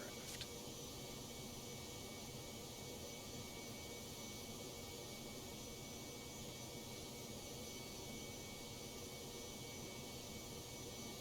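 Steady airliner jet engine drone in the X-Plane 12 flight simulator during approach to Dallas, a constant loud broadband roar and whine holding evenly throughout with no talk.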